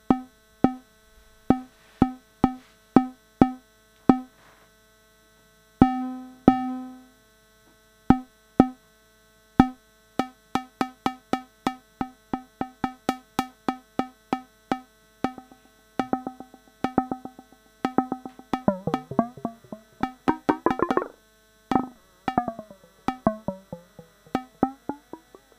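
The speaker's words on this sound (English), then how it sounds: "So without any EQ and echo, it sounds like this." Arturia Drumbrute FM drum voice run dry through an analog mixer with no EQ or echo, playing sparse tonal hits that speed into dense rhythmic patterns with ringing metallic overtones, no voices present.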